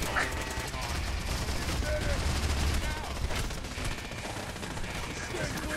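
Machine gun firing explosive rounds in the video game Fallout 4, a dense continuous fusillade of rapid shots and blasts running throughout, with a voice talking over the gunfire.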